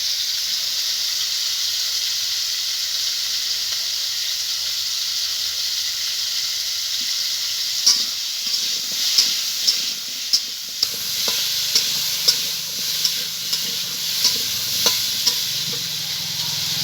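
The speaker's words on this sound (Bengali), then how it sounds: "আলু ভাজার ভিতরে আমি একটু লবণ একটু হলুদ দিয়ে দেবো।" Potatoes frying in a pan with a little salt and turmeric, a steady close sizzle and hiss running throughout, with a series of sharper spatters and stirring clicks joining in during the second half; no voices.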